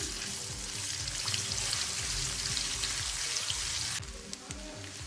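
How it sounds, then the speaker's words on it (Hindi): Ginger garlic paste frying in hot ghee, a dense crackling sizzle heard up close that steps down abruptly partway through, then bubbles more softly. "अब मैं इसमें ऐड करूंगी अदरक लहसुन का पेस्ट 1 खाने का चम्मच और इसे 1 मिनट तक भूनूंगी"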